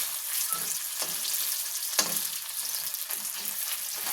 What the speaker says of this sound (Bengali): একটু ভাজা ভাজা হয়ে যাক।